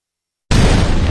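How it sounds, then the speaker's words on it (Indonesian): An anime artillery explosion bursts in abruptly after a moment of silence, a loud, dense roaring blast that fills the short clip. "Ledakan di mana-mana, bro."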